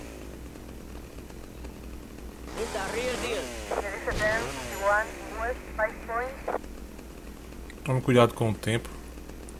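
A chainsaw used as a weapon in GTA Vice City revs in rising and falling bursts, with a later cluster of short snarls, all under someone speaking.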